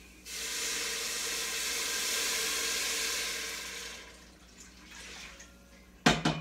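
Two cups of water poured slowly into a pot while making keto cornbread dressing, a steady soft hissing stream for about four seconds that tapers off, ending with a brief clatter.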